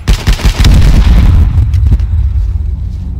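Loud, rumbling booms and rapid bursts of gunfire crackle together in the video game H1Z1: King of the Kill, then fade into a lower rumble.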